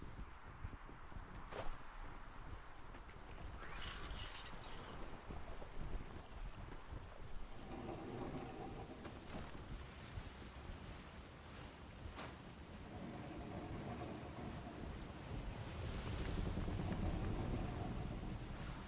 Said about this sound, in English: Ooh, we're in a horrible wind.